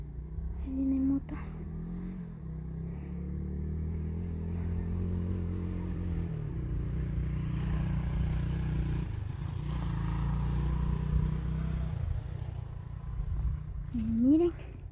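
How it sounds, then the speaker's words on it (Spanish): A motorbike approaching on a road below a forest, its engine a low steady drone that builds gradually under a person talking nearby, with breezy outdoor ambience throughout. "Ahí viene moto."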